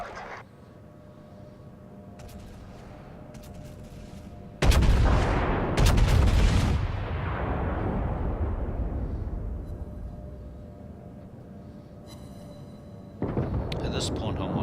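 Heavy naval gunfire from warships in a battle video game featuring the Scharnhorst, with booming salvos and long rumbling decays, a loud blast near the middle and another at the end.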